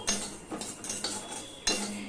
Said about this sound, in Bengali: দিয়ে সমানে গরম কড়াইতেই আমি নাড়তে থাকবো।